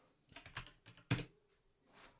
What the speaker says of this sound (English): Wow, my typing is special today.